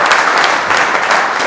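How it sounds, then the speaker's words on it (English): A conference audience applauds a speaker with dense, steady clapping that fills the hall, loud and continuous with no talking. "I want to have another round of applause for the last speaker and the last presentation"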